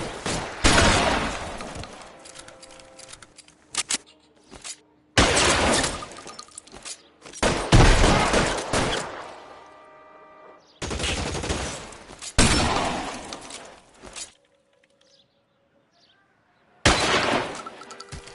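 Gunfire crackles through a bank shootout in L.A. Noire in loud bursts of shots, some with shattering glass. The bursts are split by short quiet gaps and come close and harsh over the whole stretch.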